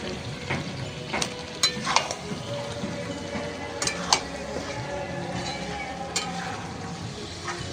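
Chicken curry sizzles in a pan as it is stir-fried, a constant frying hiss broken by sharp scraping and clinking strokes of a spatula against the metal at irregular intervals, close and with no talk.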